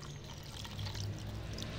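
Water is poured into mixed flour to make dough for chicken spring rolls, a soft, continuous trickling pour lasting under two seconds, fairly quiet and with no talking.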